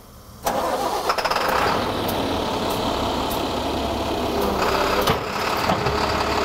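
Vehicle engine cranked and started with a sudden onset, settling into a steady running hum with faint clicks as the snow plow is raised.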